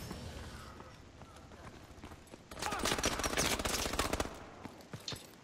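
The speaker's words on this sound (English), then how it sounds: "the guns, when they shoot on this game, it sounds so weird" Rapid bursts of automatic gunfire in Call of Duty: Advanced Warfare, a dense rattling volley from about two and a half to four seconds, loud and close, with quieter game sounds around it.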